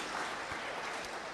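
Audience at a 2024/25 Finance Bill review conference claps steadily, a dense, even patter of many hands held at a moderate, fairly quiet level throughout.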